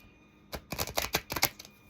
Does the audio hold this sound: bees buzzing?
no